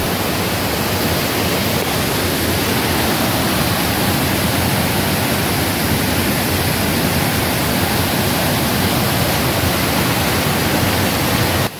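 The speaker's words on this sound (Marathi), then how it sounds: "धबधब्याजवळ आलेलो आहे." A waterfall at a hidden spot in Konkan roars nearby in a loud, unbroken wash of noise that stays even from start to finish.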